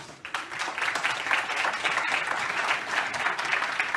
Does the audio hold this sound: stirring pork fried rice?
no